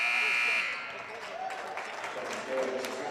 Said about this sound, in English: A little short again for Hunt at the buzzer